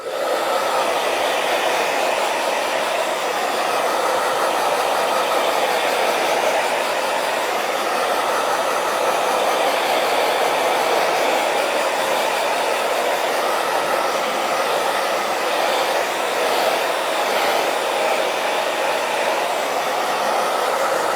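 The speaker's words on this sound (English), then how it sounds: "So I'm going to use the hairdryer now just to dry this off." A hair dryer blows loudly and steadily close by, an unbroken whooshing roar with no pauses.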